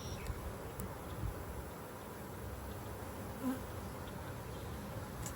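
Honeybees buzz around an open hive during an inspection, a steady dense hum of many insects with individual bees drifting close now and then, with no talking.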